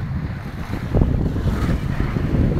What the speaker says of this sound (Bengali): সমুদ্রের এই ঢেউ, সমুদ্রের ঢেউ, কি জোয়ার